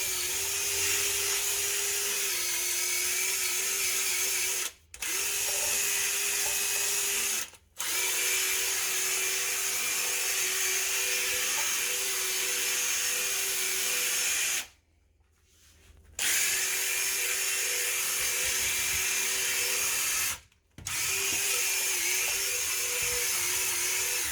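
A cordless drill fitted with a scrub brush attachment whirs loudly and steadily while scrubbing dirt off a surface. The motor runs in long bursts and stops briefly several times.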